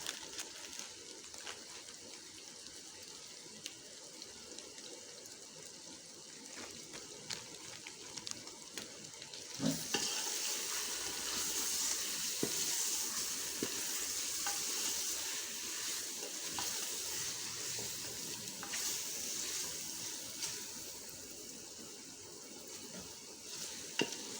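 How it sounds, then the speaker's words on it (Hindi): Steady sizzling and frying of chicken in a pan, with occasional stirring scrapes, growing louder partway through. "चिकन को थोड़ा सा इसको फ्राई करेंगे।"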